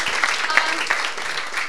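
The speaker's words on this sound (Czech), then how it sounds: "Prosím o potlesk." A concert audience applauds, a short, even wash of many hands clapping at moderate loudness with no break.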